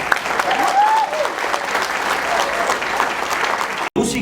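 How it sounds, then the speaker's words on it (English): An audience at a Tejano music gathering gives a round of applause, a full, even roar of clapping for about four seconds that cuts off sharply near the end, with a voice faintly over it. "can we give them a round of applause?"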